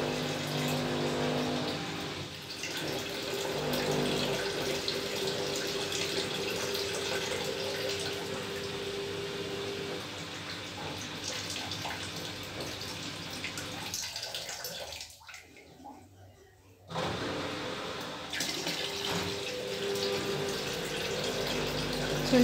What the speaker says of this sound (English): So this is the second and last rinse, where it's going to release the fabric softener and do the final spin.